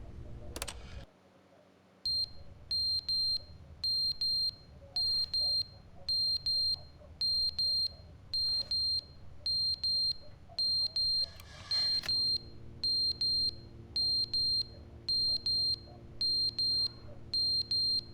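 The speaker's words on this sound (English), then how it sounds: "Is that the smoke detector?" In The Stanley Parable video game, a smoke detector alarm sounds in regular high electronic beeps, repeating steadily in short bursts for many seconds, with a low background hum and a brief louder interruption partway through.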